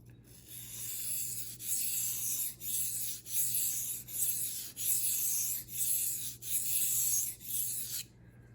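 A cheap, very soft steel Walmart knife rasps back and forth on a generic waterstone in steady, even strokes. There are roughly ten long, close swipes with short breaks between them, and nobody talks.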